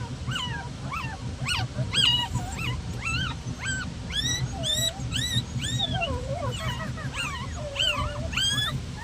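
An injured female dog that was run over by a car whimpers and yelps in repeated high, wavering cries, fairly close and continuous over a low background rumble, with no talking.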